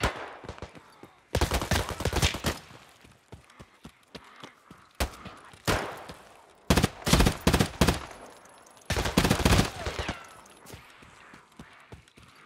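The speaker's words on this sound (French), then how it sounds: "C'est quoi qui me tire dessus d'en haut là? Il tire sur moi ou sur les putains de zombies?" Gunfire from above in a zombie shooter, scattered single shots and several loud rapid bursts from a fairly close weapon, separated by quieter stretches of distant pops.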